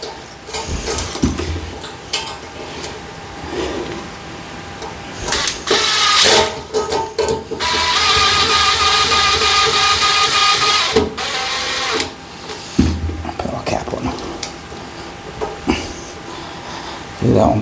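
A power screwdriver driving screws while a toilet is fitted in an en suite bathroom refurbishment, with repeated buzzing whirs in bursts, including one long sustained run, close by and loud, mixed with handling knocks.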